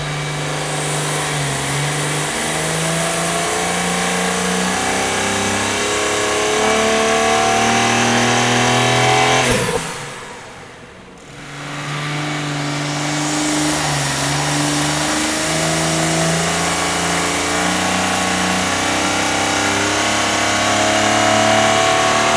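A BMW G80 M3 on a dyno fitted with a Mishimoto air intake, its engine roaring loudly and steadily as revs build, a brief dip to near silence between pulls, then revving hard again; no talking.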